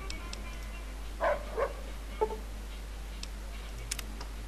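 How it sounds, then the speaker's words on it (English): Rex, a cyborg dog companion in the video game Fallout: New Vegas, gives two or three short, muffled barks close together over a steady electronic hum, followed by faint scattered ticking. "I have a robot dog with me now. Well, cyborg dog actually."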